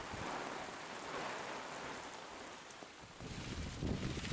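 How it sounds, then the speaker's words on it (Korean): Heavy typhoon rain pours steadily in northern Gangwon Province amid strong winds, a dense continuous hiss with no voices, swelling slightly louder toward the end. "계속 비와 소낙비가 내리고 특히 강원도의 북부적 지역에서는 폭우도 내리고 있습니다."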